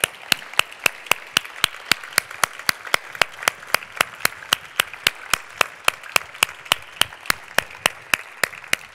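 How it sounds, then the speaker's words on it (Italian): Steady, evenly spaced claps ring out in unison, a crowd clapping together in a slow regular beat for several seconds. "assimo Cacciari, Gil Bey, Francesco Micheli, per i quali vi chiedo un applauso."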